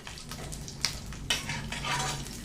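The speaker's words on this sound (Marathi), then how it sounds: "तर लसूण आणि मिरची मी याच्यावरती छान भाजून घेते" Garlic, green chillies and coconut roasting together on a hot griddle, a soft steady sizzle with a couple of sharp scraping stirs of a utensil against the metal, close and quiet.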